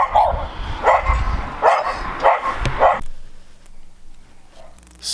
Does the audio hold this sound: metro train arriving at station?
no